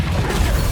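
A Confringo spell impact in the video game Hogwarts Legacy bursts as a loud, dense, explosive crash that fills the whole short moment with no pause.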